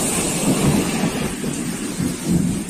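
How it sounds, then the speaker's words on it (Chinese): Heavy rain pounds a flooded road during the 2020 Yangtze River flooding in China, a loud unbroken roar of rainfall with low rumbling swells underneath and no voices. "你看这个雨水，我这一身都打湿了"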